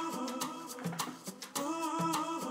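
A studio rhythm of tambora drum and shaking maracas with chopped vocal snippets layered over it. It is a short, fairly quiet loop of steady percussive hits under tonal fragments.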